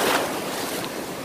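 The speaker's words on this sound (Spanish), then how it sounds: "Las olas están bajitas." Low, gentle ocean waves wash steadily onto a beach at a spot used for boogie boarding, with a continuous broadband rush of surf and light wind noise and no talking.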